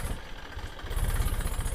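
Massey tractor engine idling on a rough farm track, a steady low chugging throb that grows a little louder and heavier partway through, with no one talking.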